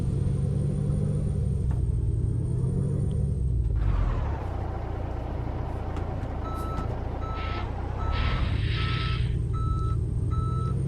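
Reversing alarm on a truck in a trucking video game: evenly spaced electronic beeps repeating over a low diesel engine rumble, with the engine note shifting partway through.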